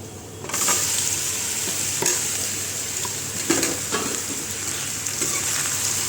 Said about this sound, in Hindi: अब मैं इसमें तुरई डाल दूँगी, ये तुरई जो मैंने काट के रखा हुआ है।